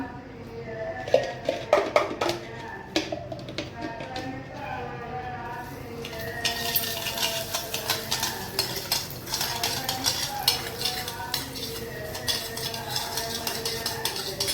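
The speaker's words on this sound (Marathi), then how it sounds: "अजून खरपूस करायचं म्हणजे असं भाजायचं आपल्याला रव्या" Semolina being roasted in ghee and stirred in a pan for mango sheera: a spoon repeatedly scrapes and clinks against the pan over a low sizzle, with a voice speaking over it and busier, louder stirring in the second half.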